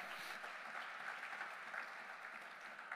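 A church congregation claps in steady, dense applause throughout a sermon service, moderately loud and continuous with no voices standing out.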